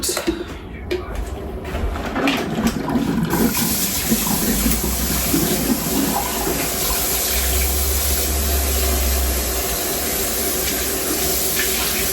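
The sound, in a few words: rinsing something out under running tap water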